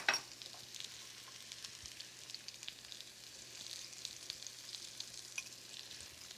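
Sliced onions with a little sugar and salt sizzle steadily in a hot pan, a soft continuous crackle with scattered pops and no voices.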